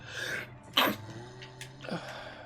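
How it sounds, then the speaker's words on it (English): A single sharp sneeze bursts out in a quiet room, preceded by a soft breath and followed by faint sniffles. "Sorry, had to sneeze."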